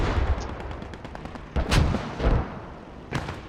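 Heavy 20mm cannon fire in a World War II tactical shooter match, several loud booming shots spaced apart against a constant rumbling battlefield background, with no talking.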